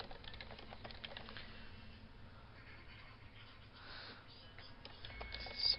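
Soft, quick keystrokes on a computer keyboard as a file name is typed, faint and close, in a steady patter with no talk.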